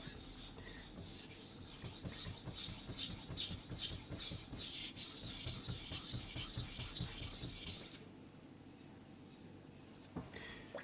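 A VG10 steel knife strokes back and forth on a Rika 5000 grit whetstone in a rhythmic series of close, gritty scrapes that stop abruptly near the end, leaving near quiet with a faint scrape.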